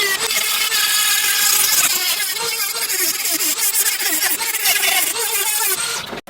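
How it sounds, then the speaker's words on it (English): A Dremel rotary tool grinds tight spots in metal, working into small pre-drilled holes, with a loud, steady, high-pitched whine that runs continuously for about six seconds before cutting off. "For these really tight spots, I drilled smaller holes and then went at them with a Dremel."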